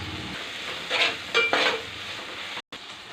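Chana dal frying in a pan with curry leaves, tomato, ginger paste and green chilli, with a soft steady sizzle and a few brief scraping stirs before a short cut-out.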